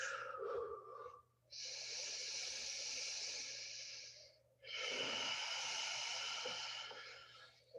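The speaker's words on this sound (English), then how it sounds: "find a place of stillness here for 3 breaths" Slow, audible breaths during yoga practice, close and quiet: a short exhale, then two long, drawn-out airy breaths of several seconds each separated by a brief pause, with no talking.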